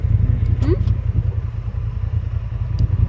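A dune buggy, called an LTV bike, runs in the Dubai desert, its engine a steady close rumble and rattle with brief higher bursts.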